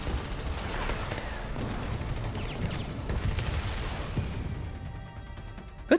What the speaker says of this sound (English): Intense gunfire pulverizes the walls in an instant.